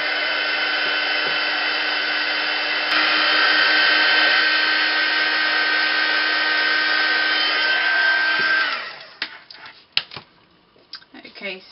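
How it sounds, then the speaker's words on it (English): Heat gun blowing a steady, loud whoosh with a faint hum, used to melt embossing crystals on a mixed media tag card; the airflow runs unbroken for about nine seconds, then cuts out, leaving small handling clicks and rustles. "I'm just going to set these with my glue gun again"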